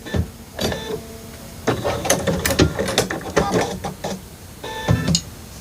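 A home sewing machine stitches quilt pieces along a marked line in short mechanical bursts, whirring and clicking up close with brief pauses between runs.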